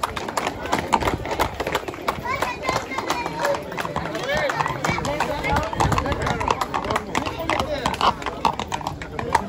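Horses being paraded at a village festival horse beauty contest on Lesvos, hooves clopping on hard ground amid crowd murmur, with someone speaking over a loudspeaker throughout.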